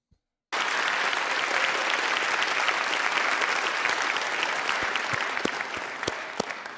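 Audience applause at a Zizek talk bursts in suddenly and holds as dense, steady clapping from a large crowd, with a few louder individual claps near the end.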